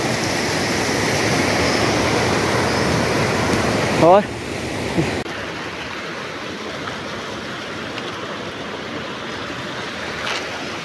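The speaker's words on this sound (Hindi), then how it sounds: "बस ये रही हमारी सतलुज नदी" Rushing water of the Sutlej River flows as a loud, steady broadband roar that drops to a quieter, distant wash partway through, with a brief voice speaking over it.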